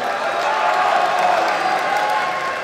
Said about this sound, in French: Est-ce que vous pouvez les applaudir encore une fois,